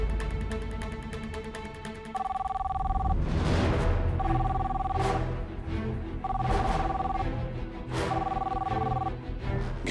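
In a TV police drama, a telephone rings in four evenly spaced electronic bursts over a dense, rumbling dramatic score with occasional booming hits.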